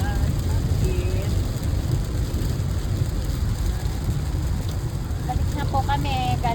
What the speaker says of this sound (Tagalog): Napakalakas ng ulan sa highway.